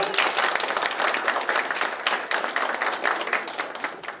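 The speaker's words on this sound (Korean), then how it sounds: "강사님을 큰 박수로 맞이해 주시기 바랍니다" A large audience at an integrity lecture applauds steadily to welcome the speaker, dense clapping sustained throughout at a strong, even level.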